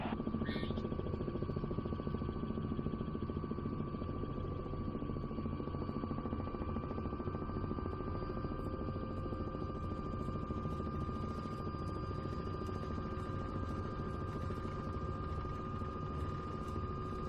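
A helicopter's steady engine drone and rotor hum in Microsoft Flight Simulator 2024, flying near windmills, holds a constant tonal whine with a slight tick of blade rhythm, unbroken and close for the whole stretch with no talk over it.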